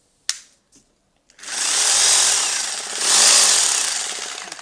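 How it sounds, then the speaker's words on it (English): A rotary hammer drill fitted with a flat chisel hammers away after a couple of sharp clicks, a loud, close, continuous rapid pounding that swells and holds for several seconds. "And then we use hammer."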